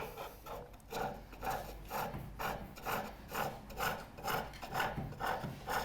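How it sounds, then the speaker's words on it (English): A skew chisel finishes a turned wooden chair leg on a lathe, making a rhythmic rasping shave that swells and fades about twice a second as the tool sweeps back and forth, close and fairly quiet. "Nice, small, feathery shavings when you're cutting with a skew, or when you're finishing with a skew."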